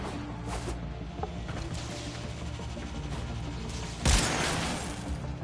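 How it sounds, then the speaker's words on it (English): Suppressed gunfire in the video game Warframe gives a few soft, muffled shots over a constant game backdrop, with one sharper, louder burst partway through that fades slowly. "you guys may be able to hear the gunshots"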